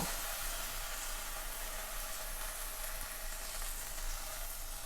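Thick coconut cream stir-frying in a hot pan for a Thai coconut soup, a steady close sizzle and hiss that runs evenly without pause and with no talking.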